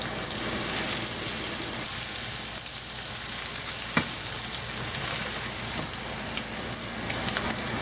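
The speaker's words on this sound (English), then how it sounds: "You're gonna cook these sausage first, kind of browning them first." Pork sausages browning in a frying pan give a steady, close sizzle with a constant crackling hiss throughout and no talk.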